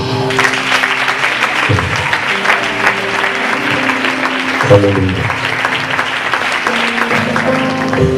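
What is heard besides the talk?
congregation applause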